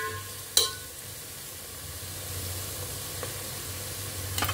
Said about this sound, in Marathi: चांगलं परतून घ्यायचं, थोडंसं तेलात भाजू द्यायचं याला